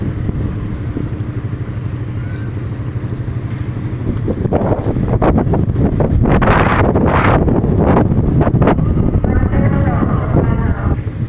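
Strong wind buffeting the microphone near fishing vessels, a continuous rushing roar that surges louder midway, with a boat-like rumble underneath.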